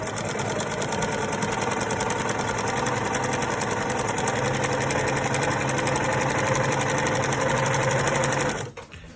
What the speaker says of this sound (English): I'm just gonna sew it right on top, keeping my thread pretty close to the edge of my fabric